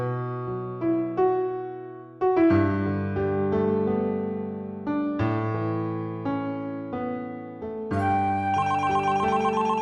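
A phone ringing in a Hindi TV drama scene, with a steady electronic ringtone melody made of bright stacked tones. It plays loudly and continuously, shifting through note changes, with no voices over it.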